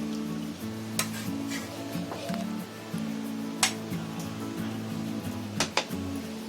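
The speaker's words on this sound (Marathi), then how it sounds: "जरा हलक्या हाताने असं सगळं ढवळून घ्यायचं" A cooked vegetable curry with oil is stirred gently in a pan, giving soft scraping and occasional clinks over a low sizzle, with a droning tonal hum in the background.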